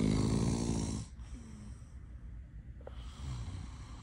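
A man snores while asleep, close and fairly faint, with one long rasping breath at the start, then quieter breathing and a softer snore toward the end.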